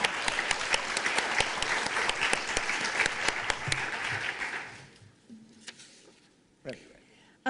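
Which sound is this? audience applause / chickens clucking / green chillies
audience applause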